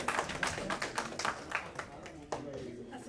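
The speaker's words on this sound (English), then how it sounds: "Please, a round of applause for Amira." Audience applause at Alhaja Taiwo Adio's 40th birthday party, welcoming her daughter Amira: a burst of sustained crowd clapping with sharp individual claps, easing off toward the end.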